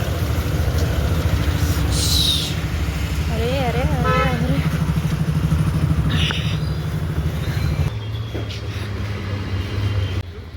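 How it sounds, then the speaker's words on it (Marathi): Busy Mumbai street in a traffic jam near a metro station, engines rumbling and a horn blaring, while a voice calls out over the steady road noise. "इथं ट्रॅफिकने जाम करून टाकलंय"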